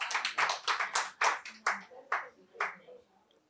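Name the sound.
audience applause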